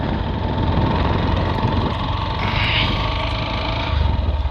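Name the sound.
motorcycle engine while riding on village road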